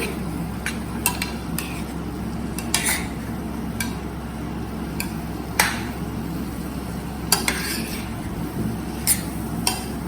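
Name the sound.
stirring bottle gourd in a pan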